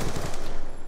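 A fast, loud burst of automatic gunfire from Black Ops 2 rattles close up and keeps a tight, even rhythm for under a second.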